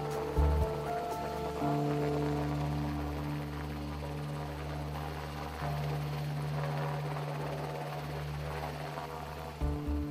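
A helicopter hovering over open water during a troop retrieval, with a steady droning rotor hum and whine throughout, mid-distance, plus faint splashing and wind, no voices.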